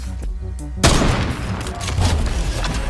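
A heavy sniper rifle fires in Fortnite, aimed at an enemy still gliding in: one sharp, loud boom after a short quiet lead-in, followed by a dense, sustained wash of game noise and rumble.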